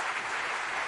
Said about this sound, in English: A round round of applause, please